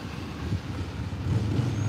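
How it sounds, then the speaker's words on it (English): Vehicle noise from a road near an outdoor field test of a Vortex Fury 5000 AB, a low, steady rumble of traffic with no talking and no clear pass-by peak. "sorry for the vehicle noise, but it is what it is."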